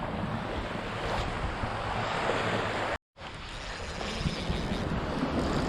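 Calm open-ocean surf washes onto a beach during early-December surf fishing, a soft steady hiss of small waves mixed with wind noise on the microphone, briefly cutting out midway before resuming.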